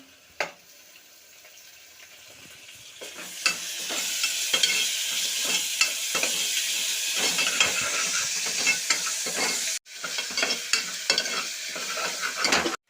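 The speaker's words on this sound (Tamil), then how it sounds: "நல்லா வதங்கிடுச்சு ஃப்ரெண்ட்ஸ் பூண்டு இஞ்சி பூண்டு பேஸ்ட்டுன்னு சொல்லுவாங்க" Ginger-garlic paste sautés in a hot pan, starting quiet with a few scrapes, then rising into a continuous sizzle under repeated spatula stirring and clinks, briefly cutting out near the end.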